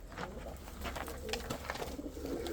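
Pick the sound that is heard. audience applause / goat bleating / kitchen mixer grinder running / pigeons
pigeons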